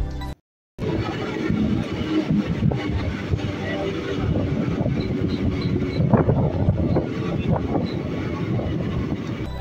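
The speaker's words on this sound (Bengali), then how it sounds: "এখন ক্রস করছে আমাদের ট্রেনটা বনপাস স্টেশন" A train runs through Banpas station without stopping on the Sealdah to Rampurhat line, heard from on board as a continuous rolling rumble with wind buffeting and a brief dropout near the start.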